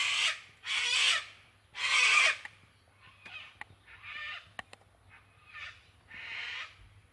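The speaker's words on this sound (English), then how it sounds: "Bloody cockatoos." Cockatoos screeching outdoors at a campsite with a camper trailer: loud harsh broadband squawks in several bursts, the strongest early on, then fainter calls, with no talking.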